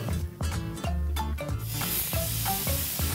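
Diced meat skewers sizzling and crackling in a hot pan, a steady close hiss with occasional stirring clatter, no voices.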